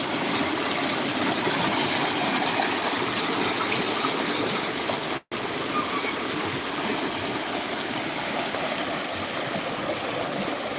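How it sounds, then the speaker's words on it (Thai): A cold mountain river streams over rocks, a loud, steady broadband rush of flowing water close by, continuous apart from one momentary dropout midway. "ก็เก็บภาพบรรยากาศวิว แม่น้ำเย็นๆ สายน้ำเย็นๆ นะครับ"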